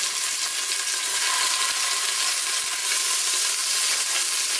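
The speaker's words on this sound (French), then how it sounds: "Faites saisir rapidement la viande à feu vif dans une cocotte minute et avec un petit peu d'huile d'olive." Beef searing over high heat in a little olive oil inside a pressure cooker, giving a loud, dense, unbroken sizzle close up, with no talking.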